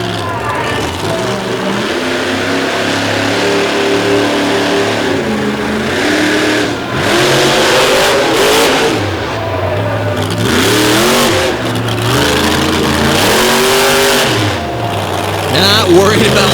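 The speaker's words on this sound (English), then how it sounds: "Not worried about what's in front of him, just getting the speed up and throwing the truck into the obstacle." A monster truck engine revs hard at a monster truck show as it speeds toward buried concrete barriers, loud and close with rising and falling throttle swells, under an announcer's commentary.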